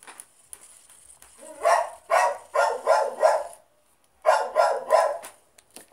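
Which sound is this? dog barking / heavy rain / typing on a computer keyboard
dog barking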